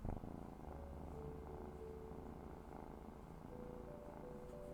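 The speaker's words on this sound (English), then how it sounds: "Can you hear him purring?" Soft, continuous low purring from a nearby cat, with faint music tones drifting over it.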